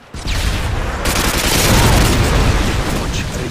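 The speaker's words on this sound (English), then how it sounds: "Friendly Predator missile inbound" Predator missile explosion in a Call of Duty-style team deathmatch game: a loud, sustained booming blast with rumbling debris that swells and lingers for a few seconds, with gunfire crackling around it.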